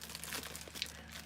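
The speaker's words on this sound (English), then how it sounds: "I shall put them in the plastic bag" A plastic bag crinkles and rustles close up as sweets are dropped in, giving a steady soft crackle of irregular small crunches over about a second.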